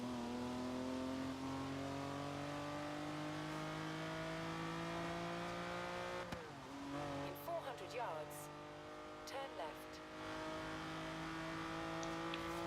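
A Lamborghini engine in Forza Horizon 3 revs and accelerates hard, a loud rising roar that drops and climbs again through gear changes, with a brief tire squeal midway and occasional talk over it.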